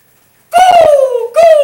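A voice imitates a rooster crowing, a single loud, drawn-out call that falls slowly in pitch, followed by a short second burst, heard close and alone.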